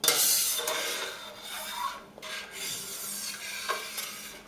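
A metal utensil stirs milk for pudding in a multifunction pan, scraping and swishing against the pan bottom in steady, close strokes with short pauses between them, and no voices over the sound.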